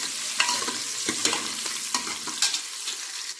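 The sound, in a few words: sautéing onions for country chicken curry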